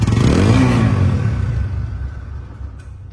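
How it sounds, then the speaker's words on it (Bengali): A TVS Apache RTR 160 ABS motorcycle engine runs close by, a loud, smooth rumble that swells briefly, then settles and slowly fades to a quieter idle. "দেখেন সাউন্ড কাকে বলা হয়, স্মুথ সাউন্ড।"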